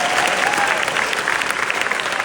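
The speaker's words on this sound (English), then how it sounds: "Give yourselves a round of applause." Band members giving themselves a round of applause, a steady, fairly loud burst of many hands clapping in a room, even in level and without talk.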